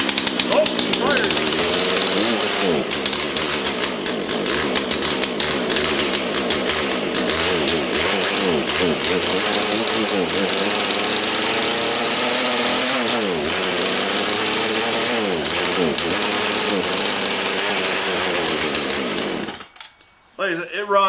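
Chainsaw engine running after a cold start, a loud, steady buzzing idle with a slight wavering warble that continues for nearly twenty seconds, then cuts off abruptly, with some talk over it.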